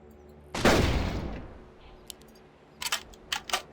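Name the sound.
gunfire from shooting a Coelophysis in the video game Carnivores World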